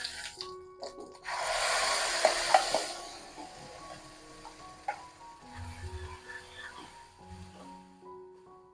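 A hot pan bursts into a loud hissing sizzle as ground spice paste hits the oil, then settles into quieter crackling with light clinks and scraping.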